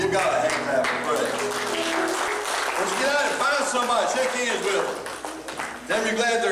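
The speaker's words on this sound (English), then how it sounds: "Give God a hand clap and pray." A church congregation claps hands during worship, sustained clapping mixed with singing and voices throughout.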